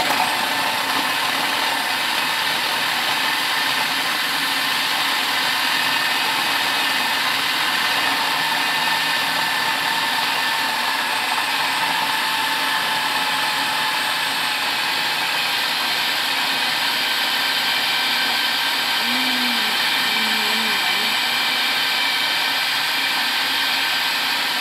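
Kitchen blender whirring at high speed to mix homemade fruit ice cream, a loud steady motor drone with no breaks throughout.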